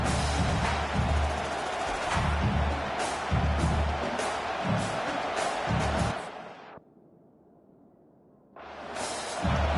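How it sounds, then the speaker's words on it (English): A crowd roars at an American football game as a loud, continuous wash of noise with rhythmic low thumps, dropping out abruptly for about two seconds before the roar returns. "The roar of the crowd trying to fuel this defense"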